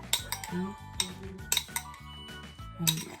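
Runny icing mixed with icing sugar in a bowl: a utensil clinks and scrapes against the bowl in repeated quick strokes, close and fairly faint.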